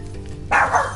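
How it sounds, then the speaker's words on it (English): A dog barks once, loud and close, halfway through a brief moment of low background hum. "that's my dog freaking out"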